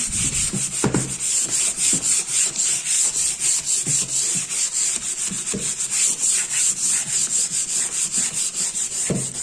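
Steady, rhythmic scratchy rubbing of sandpaper against a wooden cupboard, removing leftover adhesive, close and continuous with regular back-and-forth strokes.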